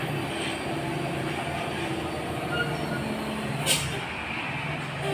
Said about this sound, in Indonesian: Bus Famili Raya Ceria juga melintas menuju Kota Padang.